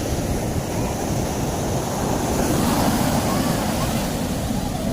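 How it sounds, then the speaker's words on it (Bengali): Ocean waves roll and break in a steady, loud roar, mixed with gusty wind rumbling against the microphone. "ঢেউ দেখো"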